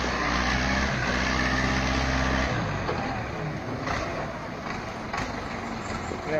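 A tractor driven by a young girl in Jamaica, its engine rumbling loudly and steadily throughout with a heavier low drone at first, while voices talk over it.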